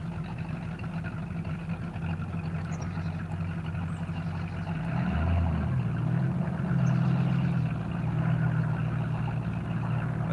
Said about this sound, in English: That boat sounds good.